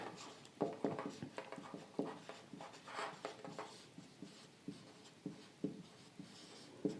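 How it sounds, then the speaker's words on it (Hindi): Chalk or marker scratching across a classroom board as a teacher writes out a table, with short irregular taps and strokes, faint and close, in an otherwise quiet room. "उनको मैं यहाँ पे लिख रहा हूँ"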